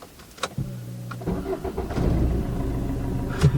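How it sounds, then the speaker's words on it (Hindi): A Maruti Swift VDI diesel car, seven years old, cranks briefly and catches, then settles into a close, rough diesel idle with a steady low clatter. "आइए गाड़ी को स्टार्ट करके देख लेते हैं कि कितना साउंड दे रही है ये गाड़ी अभी।"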